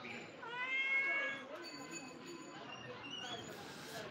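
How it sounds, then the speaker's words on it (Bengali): A domestic cat gives a drawn-out meow near the start, then a person talks quietly over the soft background. "এটা আমার বিড়াল"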